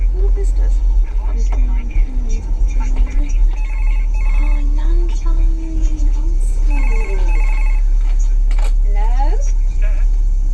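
A mobile phone rings in a repeating electronic tone pattern, loud and close, while people talk over it in a home with a kitchen.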